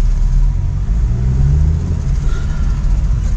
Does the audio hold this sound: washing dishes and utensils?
no